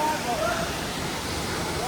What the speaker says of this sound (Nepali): यो झरना यो आमा रोशनको झरना हो